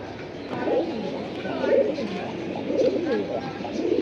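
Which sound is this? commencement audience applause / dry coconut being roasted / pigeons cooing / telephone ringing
pigeons cooing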